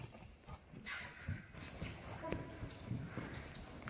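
A horse canters with a young rider aboard, soft rhythmic hoofbeats thudding in a rolling three-beat pattern at moderate distance, fairly quiet throughout.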